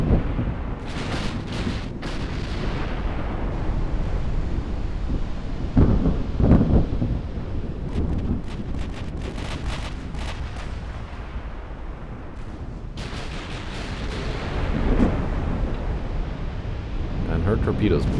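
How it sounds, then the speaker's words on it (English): Naval secondary guns boom in Ultimate Admiral: Dreadnoughts, a run of heavy distant blasts and rolling rumbles repeating in irregular bursts, with someone talking over the battle. "Secondary fire also opening up now on"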